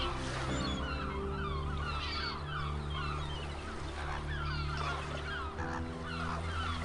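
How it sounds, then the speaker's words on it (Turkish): A wintering flock of flamingos in Istanbul gives goose-like honking calls that overlap continuously, layered over a steady low drone. "flamingo."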